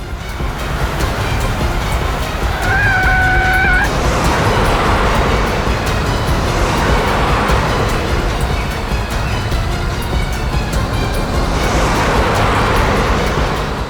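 Two cars driving away on separate roads, heard as a loud, steady wash of road noise with soft swells of passing traffic and a brief tonal horn-like beep early on.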